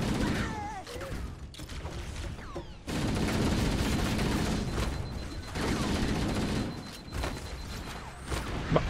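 Gunfire in Halo: Combat Evolved, with bursts of rapid shots and booms around a fight over a stationary gun, shifting between louder and quieter stretches, with some voices mixed in.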